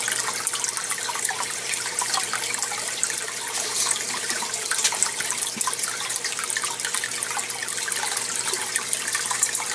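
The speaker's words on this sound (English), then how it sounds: "there is of course the sound of running water in my greenhouse" Running water in a greenhouse koi and goldfish pond splashes and trickles continuously, close and fairly loud, a dense steady wash with no voices.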